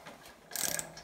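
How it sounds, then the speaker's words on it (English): A socket wrench on an extension ratchets a 10mm bolt during a steering rack fitting, a quiet, quick burst of rapid clicks lasting about a quarter second after a near-silent pause. "now we're going in with a socket and an extension"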